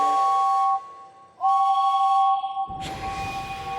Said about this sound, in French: James siffle aussi fort qu'il peut.